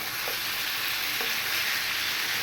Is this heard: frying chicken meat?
yes